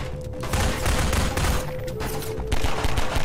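Rapid bursts of Half-Life 2: Episode Two gunfire fill the clip, loud and dense, with a brief lull before another volley near the end.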